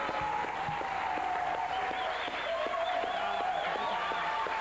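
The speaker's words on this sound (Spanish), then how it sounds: "por favor, aplaudan cariñosa, estruendosamente, como él merece" Audience applause on a television interview show for a guest maestro, moderate clapping mixed with music that has a melodic line and rhythmic beats, continuous throughout.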